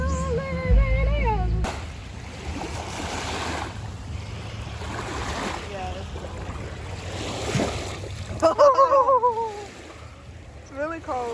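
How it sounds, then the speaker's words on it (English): Small ocean waves at a beach wash in as a steady soft surf hiss with gusty wind buffeting the microphone, swelling gently near the end, while faint voices sound nearby. "There go the little waves."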